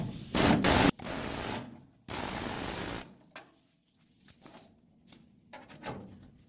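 A car body panel being cut in half with a power cutting tool, giving loud, steady whining bursts that stop abruptly, then lighter scattered taps and clunks from handling the metal.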